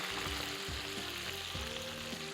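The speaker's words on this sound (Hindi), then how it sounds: "इसको हम करेंगे फ्राई पहले" Frozen chicken fries bubble in very hot oil, a loud, dense, steady sizzle close by with a few soft knocks underneath and no talking.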